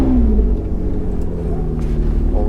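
A Ferrari 599 GTB's V12 rumbles loudly and steadily up close as the car pulls away on a Dubai road, the engine note rising slightly in a continuous drone.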